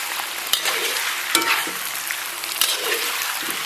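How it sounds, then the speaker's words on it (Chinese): Pork belly stir-frying over low heat with ginger slices to render its fat: a continuous bright sizzle up close, broken by occasional spatula scrapes and taps against the pan, no voices. "给它小火煸炒出油脂"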